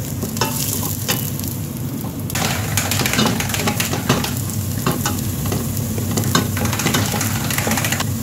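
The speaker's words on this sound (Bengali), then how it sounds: "এখন এই শামুকটা বাগার দেওয়া হবে।" Snails frying in garlic and olive oil in a pan make a steady, close sizzle. A spoon stirs and scrapes through it now and then, with short clinking accents.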